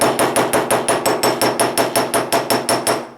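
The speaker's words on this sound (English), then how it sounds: "You're gonna keep your hammer really, really concentrated on that part." A metal hammer strikes scrap metal about fifteen times in a fast, steady rhythm, flattening it for a stamped wraparound ring. Each blow is close, loud and ringing, with nothing else heard.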